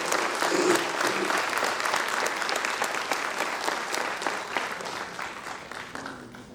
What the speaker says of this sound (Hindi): आप सबसे प्रार्थना है कि एक बार ताली बजा करके उनका अभिनंदन करें।